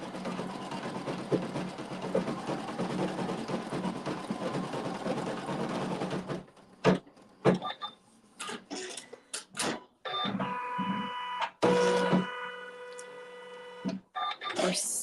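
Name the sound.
embroidery machine stitching quilting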